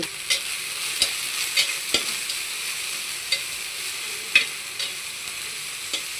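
Garlic fries in hot oil in a pan while being stirred, giving a continuous sizzle with periodic scraping and clinking stir strokes, close up and steady.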